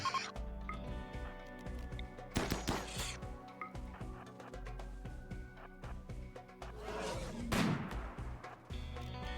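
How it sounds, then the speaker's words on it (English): Gunfire from a RimWorld colony battle, scattered shots and bursts rising from busy game sound with music and ambience, loudest near the middle and toward the end. "Come on, Bernona, show off your shooting skills"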